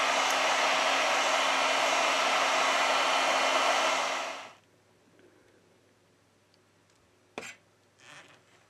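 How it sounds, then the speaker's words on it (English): A heat gun set to 90 °C blows on a Huawei P40 Pro Plus 5G phone during a teardown, a loud, steady rushing hiss for about four seconds that cuts off, followed by faint clicks and handling sounds. "With the help of a heat gun, we apply 90 Celsius degrees."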